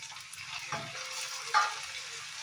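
Tomatoes fry with dried red chillies in a pan for avalakki chitranna, giving a steady close sizzle broken by a couple of brief stirring scrapes.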